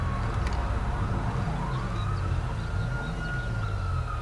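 Police car sirens wailing as they approach in Grand Theft Auto V, a rising and falling tone riding over a dense, steady low rumble of traffic and engine noise, with no talking.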